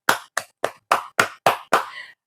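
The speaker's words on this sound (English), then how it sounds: "Clap for me." Children clapping hands together, seven crisp claps in a fairly even rhythm, close and sharp with silence between each, the last one ringing slightly longer.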